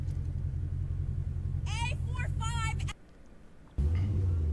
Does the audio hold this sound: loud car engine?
yes